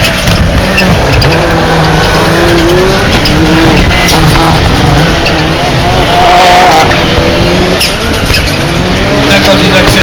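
Rallycross supercar at the Dreux round of the French championship, engine running rich as it accelerates on track, loud revving and tire noise throughout with engine pitch rising and falling, while a commentator talks over it.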